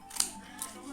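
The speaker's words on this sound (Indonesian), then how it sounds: "Gunting." Scissors snip through cardboard while a soap bottle package prototype is made, two quick crisp cuts close to the mic over a faint steady background hiss.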